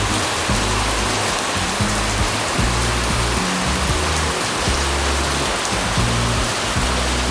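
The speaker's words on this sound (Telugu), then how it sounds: "ఇంకో ఘోరంగా పడుతుంది వర్షం" Heavy rain pours down steadily in a dense, loud hiss, constant and close, with no voices for the whole stretch.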